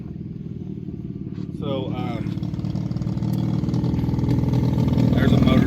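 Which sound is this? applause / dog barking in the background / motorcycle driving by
motorcycle driving by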